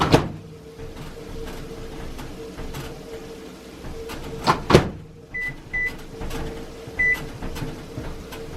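A microwave oven hums steadily with a low drone, broken by clicks and knocks, and a few short electronic beeps sound near the end.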